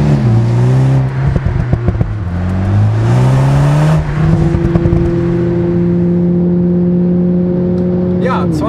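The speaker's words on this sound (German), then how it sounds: "noch ein bisschen Geplömpel aus dem Auspuff." Toyota GR Supra with the 2.0-litre four-cylinder engine on the move, its engine note rising and falling through gear changes, then holding a steady drone at speed, with someone talking over it throughout.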